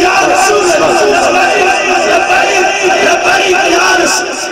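A large crowd roars and chants the religious slogan Labbaik Ya Rasool Allah in unison at a rally, a dense, continuous wall of massed voices sustained throughout.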